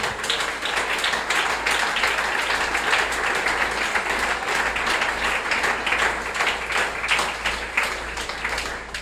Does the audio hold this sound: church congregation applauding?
yes